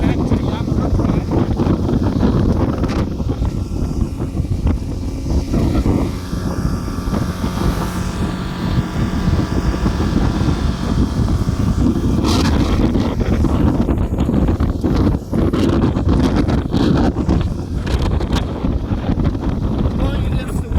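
Yamaha F25 carburetor outboard motor with a factory drive and 10-inch pitch prop pushing a boat at speed into the wind: a loud, continuous engine drone under heavy wind buffeting and water rush, with no let-up.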